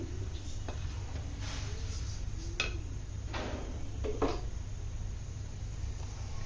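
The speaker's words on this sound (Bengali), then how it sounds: "এখন আমি দিয়ে দেব একটু ঘি, নেড়ে দিচ্ছি।" A spatula scrapes and taps against a pan as meat is stirred in ghee, a few sparse clinks and scrapes over a steady low hum of the cooking background.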